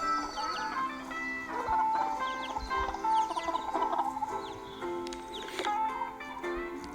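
Bantam chickens clucking on a farm, a steady run of soft, close clucks and chirps layered over one another with no talk.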